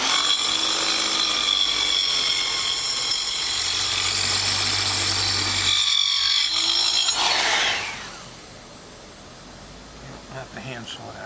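Trim saw cutting into 1.5-inch wood, a loud steady whining buzz for several seconds that winds down and stops, followed by quieter handling noise.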